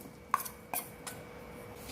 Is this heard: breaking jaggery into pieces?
yes